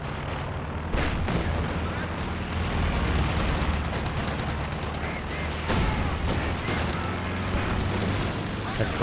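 Comet tank's main gun firing in a Company of Heroes 2 battle: sharp heavy gunshots and booms burst repeatedly over rattling machine-gun fire and constant battlefield din, with a commentator talking throughout.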